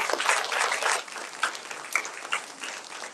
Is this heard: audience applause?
yes